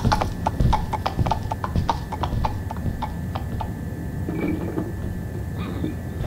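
Horse hooves clip-clop in a steady rhythmic series in a gamebook-style video game based on Poe's The Oval Portrait, close and prominent, then give way to softer shuffling and a faint whinny near the end.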